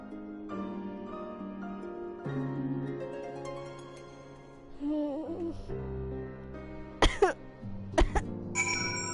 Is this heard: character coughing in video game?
yes